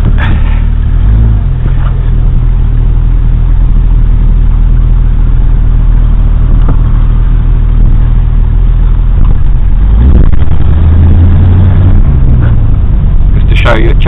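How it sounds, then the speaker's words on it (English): A Ford Mustang engine revs steadily up and down as it shifts through the gears, a loud, continuous low drone with rising and falling pitch, recorded close with heavy wind-like rumble. "Just to show you, it changes up and down through the gears nicely."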